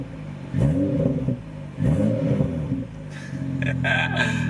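A BMW F30 engine idles while warming up after a misfire and spark plug change, with a low rumbling drone that swells in two uneven surges, and a brief clattering patch toward the end.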